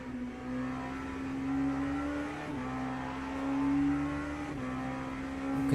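Race car engines in the Le Mans Ultimate sim, GT3 cars running through turn 1, give a steady loud drone with a sustained low engine tone that shifts pitch slightly around the middle of the run and carries on throughout.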